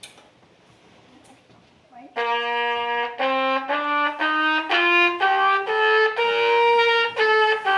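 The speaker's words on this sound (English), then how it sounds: "So I'm gonna play the same thing but with the mute in this time." A muted brass horn plays a slow rising series of sustained notes after a couple of quiet seconds, each tone bright and nasal, close and fairly loud.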